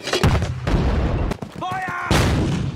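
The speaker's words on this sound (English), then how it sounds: "Mortars and grenade launchers on that building till it's..." Mortar and grenade launcher fire in a Band of Brothers battle scene: loud, dense booms and gunfire blasts fill the clip, with shouted orders and whistling tones cutting through the barrage.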